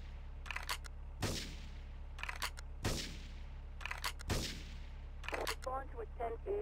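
Three sharp gunshots ring out in GTA III, evenly spaced about one and a half seconds apart, close and punchy over a steady low game hum, with brief voices and radio chatter in between.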